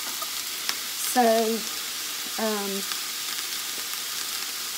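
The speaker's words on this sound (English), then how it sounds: "while that is sauteing" A pan of food sautés with a steady, hissing sizzle close by, while a voice speaks a couple of brief words over it.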